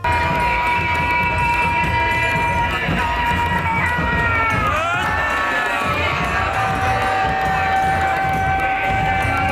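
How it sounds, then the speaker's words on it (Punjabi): A crowd at a Sikh nagar kirtan procession at Gurdwara Sisganj Sahib in Anandpur Sahib shouts and cheers loudly and continuously, with sustained chanting voices swelling over a dense, near, unbroken hubbub. "ਬੋਲੇ ਸੋ ਨਿਹਾਲ ਦੇ ਜਕਾਰਿਆਂ ਦੇ ਵਿੱਚ ਨਗਰ ਕੀਰਤਨ ਦਾ ਫੁੱਲਾਂ ਦੀ ਵਰਖਾ ਦੇ ਨਾਲ ਕੀਤਾ ਗਿਆ ਸਵਾਗਤ"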